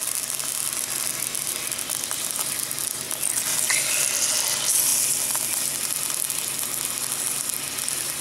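Chicken pieces hit a hot oiled pan on a small pocket stove and sizzle steadily, a broad hissing crackle that stays loud and fairly close throughout with no talking.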